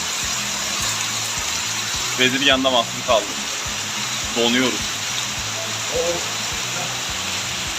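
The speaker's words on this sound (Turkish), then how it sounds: "Şu yağmura bakar mısınız?" Dense, steady hiss of rain falling throughout on the Lycian Way trail in Turkey, with a rhythmic low thumping underneath and a few short bursts of speech.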